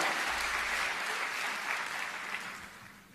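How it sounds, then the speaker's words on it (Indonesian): A church congregation claps for the praise and worship team, a dense, even wash of applause that holds steady and then starts to thin out toward the end. "Boleh kasih tepuk tangan yang meriah buat tim Praise and Worship kita."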